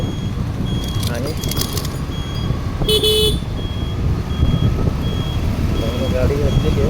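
A vehicle reverses on a street in Pune, sounding short bursts of electronic reversing beeps over a low engine rumble and road noise. The beeps come early and then once more midway, with voices nearby.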